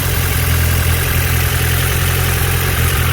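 A Honda Civic hatchback engine idles loudly and close up, a steady low rumble with a regular pulsing throb throughout.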